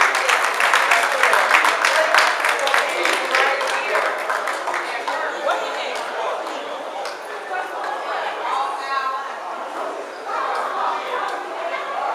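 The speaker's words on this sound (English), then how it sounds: "can we give them a round of applause?" An audience applauds in a steady patter of clapping that is loudest at the start and slowly thins, mixed with crowd chatter and what sounds like barking dogs.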